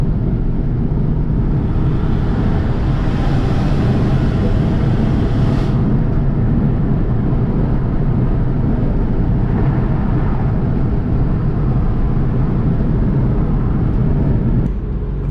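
A BMW 335i accelerates hard through second and third gear, a loud, sustained engine roar with a shift break midway and a sudden drop at the end.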